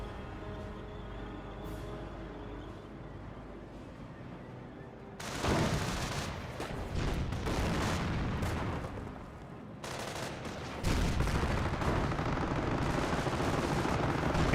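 An anti-tank gun fires on Panther tanks in the World War II strategy game Company of Heroes, with heavy booming shots and bursts of gunfire breaking out after a quiet stretch, loud and dense amid ongoing battle noise.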